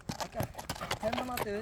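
Horse hooves clip-clop in a quick, uneven rhythm close by, mixed with speech-like voices and a brief tonal call near the end.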